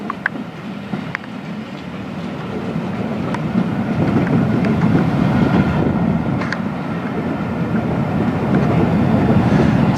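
A heavy train with a Class 57 diesel locomotive at the rear rumbles past at steady volume, a deep diesel engine drone building and holding over rolling wheel noise, with no voices.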